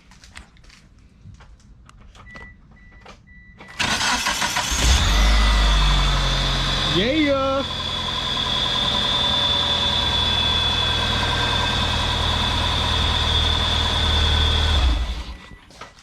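A DSM car with a replacement starter cranks briefly, catches and settles into a steady, loud idle close by, with a short rising whine as it fires. One brief spoken word.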